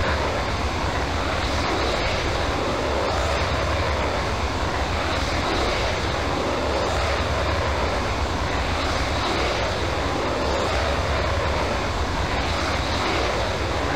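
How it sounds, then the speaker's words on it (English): An F-16MLU jet takes off in Falcon 4 Allied Force, a steady, loud, unbroken engine roar that holds at the same level throughout. "Falcon 1-1, Amendola Tower, you are cleared for takeoff."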